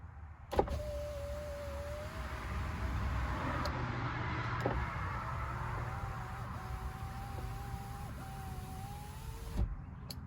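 Passenger-side power window motor on a 2000–2005 Chevrolet Monte Carlo running with the engine off, giving a steady whining hum for about nine seconds that shifts pitch slightly as the glass travels, bracketed by switch clicks at start and stop.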